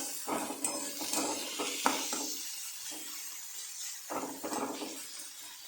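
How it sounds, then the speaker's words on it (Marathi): Salted chopped tomatoes stirred in a cooking pan for a Maharashtrian pithla, with soft scraping and clinks of a spoon against the pan over a low sizzle, in uneven bursts, close and with no talk. "छान असं मिक्स करून घेऊया."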